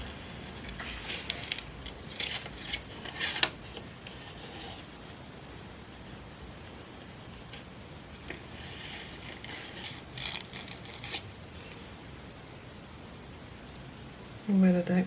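Scissors snip through paper for a collage piece, several quick close crisp cuts in short bursts, separated by stretches of quiet rustling and handling noise.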